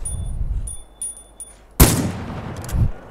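A single sharp, loud gunshot in the survival video game Miscreated rings out close by and fades, following quieter game ambience.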